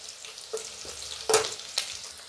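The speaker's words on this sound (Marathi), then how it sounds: "कढीपत्ता मिरची हे चांगलं तळल्यानंतर" Curry leaves and green chillies crackle in hot oil for poha, with soft scattered sizzles and a few sharp stirring scrapes and pops, one louder spatter near the middle.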